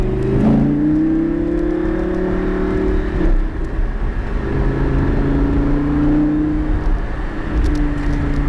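A car accelerates nearby with a steady engine whine that climbs in pitch, dips and rises again through a second pull, heard alone and fairly loud.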